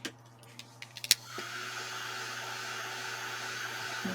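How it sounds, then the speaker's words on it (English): After a few soft clicks, a hair dryer switches on and blows steadily to dry gray paint on a moulded vintage door, a constant close whirring hum. "I'm going to dry that slightly."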